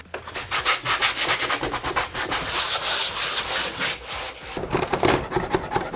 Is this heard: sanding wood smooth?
yes